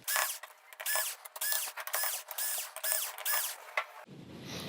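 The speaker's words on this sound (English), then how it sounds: "we are going to get the silver screws removed here from this plate that is covering the T-Con board" Silver screws being backed out of the metal shield plate over the T-Con board on a Sony XBR-65X850E TV, a close run of quick ratcheting clicks and metallic rattles in bursts, no talking.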